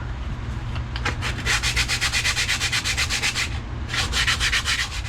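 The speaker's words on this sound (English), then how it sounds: "For cylinder walls, I like to use 36 grit sandpaper." Coarse 36-grit sandpaper rasps back and forth against a rusty engine cylinder wall in quick, rhythmic strokes, close and loud, with a brief pause before scrubbing resumes.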